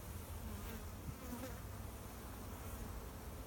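Honey bees from an overwintered six-frame colony buzz in a steady, continuous drone, moderately quiet and unbroken, with no voices.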